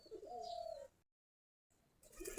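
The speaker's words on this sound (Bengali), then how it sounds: "আমাদের কবুতরগুলা এখন খাবার খাচ্ছে।" Domestic Giribaj pigeons at their coop give a soft cooing call early on, then a gap of silence and some scattered chirpy bird noise near the end, fairly faint and with no voices.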